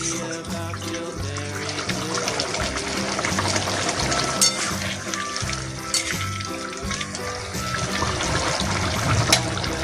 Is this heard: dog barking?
no